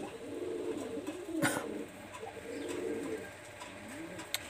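A Pakistani high flyer teddy pigeon coos in soft, low, rolling phrases, repeating a few times at moderate distance against faint background noise.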